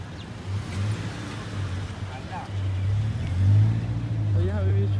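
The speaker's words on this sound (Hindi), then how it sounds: "एक गाड़ी आ रहा है" A car approaches along a street lined with small restaurants and cafés at the Barawa Al Barah labour camp accommodation in Qatar, its low engine rumble swelling louder over the last seconds beneath a person talking.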